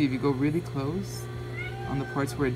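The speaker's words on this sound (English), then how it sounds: "that's my cat" A domestic cat meows repeatedly nearby, several short plaintive cries mixed with a person's speech and a low steady hum.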